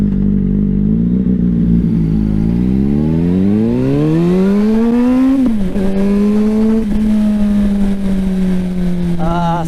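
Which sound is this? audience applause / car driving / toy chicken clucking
car driving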